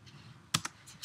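A web address is typed on a computer keyboard: a few quick, soft key clicks, isolated and fairly faint against a quiet room, with no talking.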